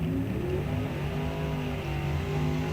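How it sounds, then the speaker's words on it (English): A dragster at a drag strip does a burnout, a steady loud engine roar with a dense rough rumble that holds constant throughout, with no voices over it. "Willie Gray going to be the first dragster out to do a burnout."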